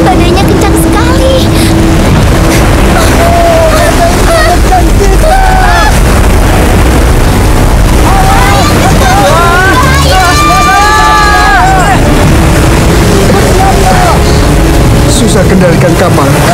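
A boat rides out a violent storm at sea, with a dense rumbling roar of wind and crashing waves all the way through and a sustained tonal whine near the end, while a babble of voices sits beneath it.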